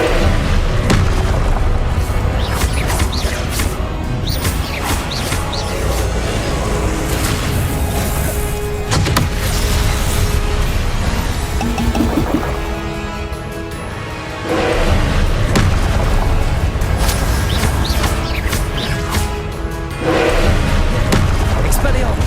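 Spell blasts in the video game Hogwarts Legacy, a dense, loud run of booming explosions and impacts layered over game music, with a voice speaking throughout.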